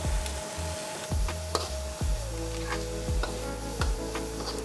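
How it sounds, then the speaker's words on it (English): Garlic and onions fry in sausage fat in a pan, giving a steady close sizzle broken by repeated sharp ticks and knocks of a utensil against the pan. "we will now use this to cook the garlic and the onions"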